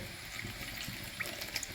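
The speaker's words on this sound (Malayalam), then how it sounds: "അതിലേക്ക് വെള്ളം ഒഴിച്ചു കൊടുക്കുന്നുണ്ട് പാകത്തിന്" Water poured into a pan to make jaggery syrup for crispy sharkkara varatti, a soft, steady trickle and splash lasting a couple of seconds, fairly faint and with no talk.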